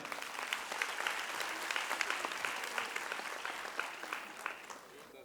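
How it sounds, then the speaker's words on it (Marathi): Sustained, dense applause from a large audience for prize-winning students at a university award ceremony, steady and loud throughout without a break. "त्या सर्वांसाठी एकदा जोरदार टाळ्या"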